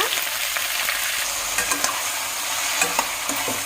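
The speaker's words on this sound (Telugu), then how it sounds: "ఇప్పుడు ఇందులో మనం ముందుగా కట్ చేసి పెట్టుకున్న టమాటా, ఉల్లిపాయ, పచ్చిమిర్చి ముక్కలు మొత్తం వేసుకొని వేయించుకోవాలి లైట్గా" Chopped tomato, onion and green chili frying in hot oil, giving a loud, dense, continuous sizzle close by, with occasional stirring scrapes over it.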